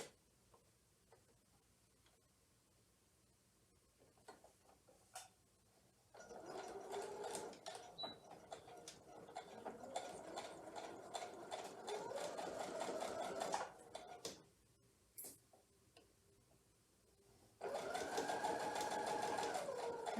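Sewing machine stitching a herringbone quilt block, its fast rhythmic needle clatter running in two bursts separated by a pause, close and fairly quiet, with soft handling noises between runs.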